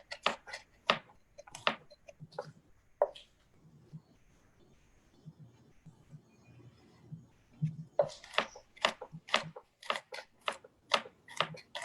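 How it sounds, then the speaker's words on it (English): Garlic chopped with a knife on a board in a home kitchen: bursts of quick, sharp taps with a pause in the middle, close and moderately loud. "What are you chopping over there? Garlic."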